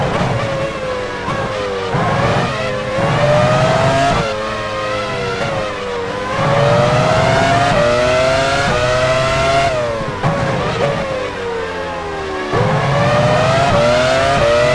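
A Formula One race car in the 2001 Belgian Grand Prix at Spa-Francorchamps in F1 Challenge 99-02 drives into the pit lane, its high engine whine rising and falling steadily and loud, with no talk.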